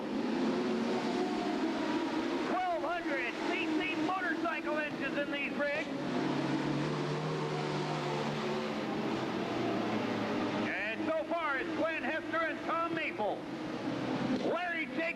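Sprint cars on a speedway oval, racing with 1,200 cc motorcycle engines, droning and whining steadily in the distance under a commentator who talks throughout.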